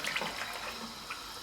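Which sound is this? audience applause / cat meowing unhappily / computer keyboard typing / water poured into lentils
water poured into lentils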